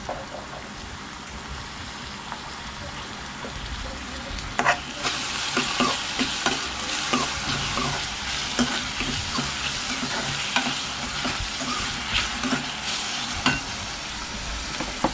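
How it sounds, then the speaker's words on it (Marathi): Onion and tomato cook in a pan with a continuous moderate sizzle, a crackling frying hiss broken by repeated soft stirring scrapes and clicks, heard alone without talk. "कांदा शिजत ठेवला आहे. आता या कांद्यामध्ये आपण थोडा टॅमॅटो टाकूया."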